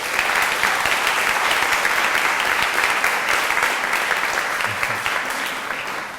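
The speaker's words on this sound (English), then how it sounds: "So let's give them a round of applause." An audience at a Yale town hall event bursts into dense, sustained applause, many hands clapping together at close range, fading slightly toward the end.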